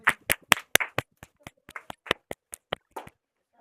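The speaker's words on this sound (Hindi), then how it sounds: "ताली ताली।" Hands clapping in a sharp, sparse series of about fifteen claps at a steady brisk rhythm, close and fairly loud, like a small group or a single person welcoming a guest.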